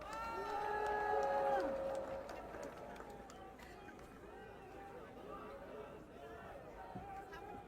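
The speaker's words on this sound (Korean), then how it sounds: "큰 박수 부탁드립니다" Crowd at an outdoor political protest rally clapping and cheering, a broad sustained wash of applause that swells early and then settles into steady background hubbub.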